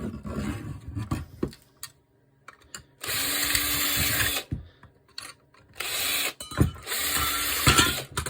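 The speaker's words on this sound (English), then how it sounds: "Use a 4mm drill to clear this hole." A 4mm power drill clearing holes in right leg assembly parts whirs loudly in two sustained bursts, separated by quieter handling clicks and short pauses.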